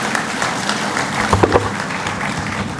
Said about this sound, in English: All of you deserve a big round of applause